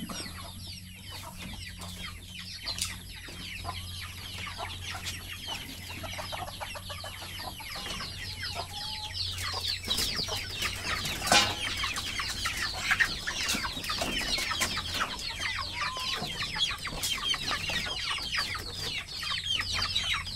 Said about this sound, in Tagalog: Nag-aabang ng mga manok.